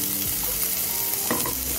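Onion fries in a pan for a meatball dish in coconut milk and cream, giving a loud, steady, close sizzle with a few brief stirring scrapes mixed in.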